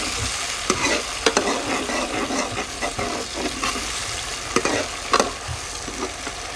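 Ground garlic and onion fry in a tadka for lentils, crackling in a loud, steady sizzle broken by sharp pops and the scrape of stirring close at hand.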